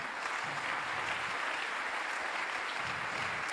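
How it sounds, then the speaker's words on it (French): A conference audience applauds the organisers at the opening of an economics event, a steady, dense wash of many hands clapping without pause throughout. "je vous demande d'applaudir tous ces organismes"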